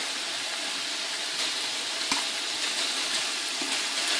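Onions and leftover steak juices frying in a pan, a steady, close sizzle with crackling spitting throughout and no talking.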